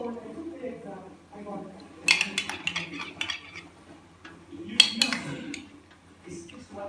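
A spoon clinks and scrapes against a bowl while stirring a homemade face paste, in two short clusters of bright metallic taps, close and moderately loud, with a person talking intermittently around them.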